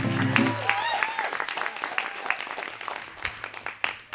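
A small open-stage audience claps in scattered, uneven bursts, close and fairly loud, mixed with a hum and some brief vocal sounds at the start.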